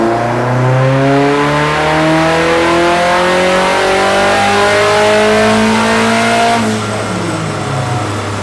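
A Datsun 510 with a built turbocharged SR20 engine revs hard and steadily on a dyno for several seconds, pitch climbing smoothly, then drops off near the end; loud, close, no talking.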